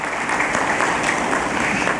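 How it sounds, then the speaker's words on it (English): A conference audience at an HR conclave claps steadily, producing a dense, even wall of applause that stays loud throughout. "big round of applause for the entire leadership of SGCCI"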